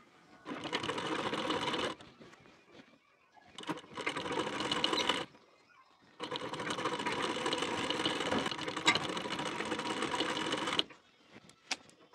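A sewing machine sews a sleeve onto the shoulder of a blouse, running in three bursts of steady motor whirr and rapid needle clatter separated by short pauses, with a few faint clicks afterward.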